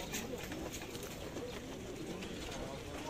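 Many birds nearby at a bird market, with pigeons cooing steadily over a dense background murmur.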